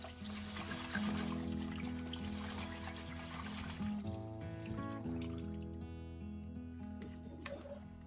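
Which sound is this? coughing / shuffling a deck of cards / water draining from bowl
water draining from bowl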